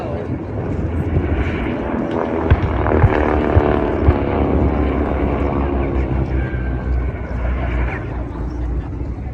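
A flight of B-17 bomber aircraft flying overhead, their propeller engines producing a steady, loud, throbbing drone that holds without a break.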